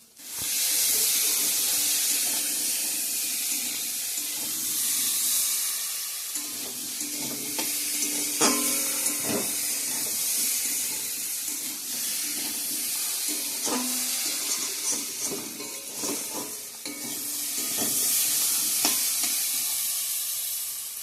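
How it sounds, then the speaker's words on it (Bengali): Potatoes and soybean fried in a pan hiss and sizzle up close, with utensil scrapes, knocks and occasional watery splashing sounds mixed in, a continuous moderate texture lasting the whole stretch without any talking. "আলু সোয়াবিনটা আমার ভাজা ভাজা হয়ে গিয়েছে"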